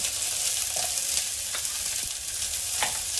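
Cumin seeds frying in a hot pan for Maharashtrian masale bhat, giving a steady close sizzle with light stirring scrapes and small pops throughout.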